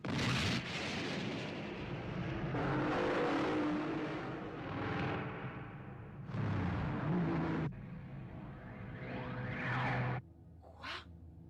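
A car in an animated series roars off, a loud, full engine rush with surging, explosive-sounding bursts that rise and drop away in waves before fading to a thin whine.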